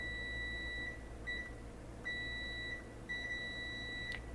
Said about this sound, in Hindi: इस ट्रांजिस्टर पर ये बीप हो रहा है,